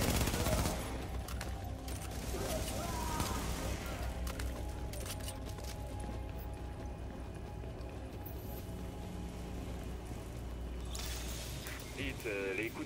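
Bursts of rapid gunfire crackle amid game sound effects and background noise in The Division beta, with people talking over it at times.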